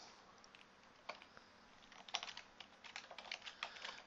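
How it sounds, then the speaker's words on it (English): Fingers tap on a computer keyboard, quiet and close, starting with a few isolated keystrokes and speeding into a quicker irregular run of clicks near the end. "For now we're going to type a space, and then we'll type the name John O'Dowd"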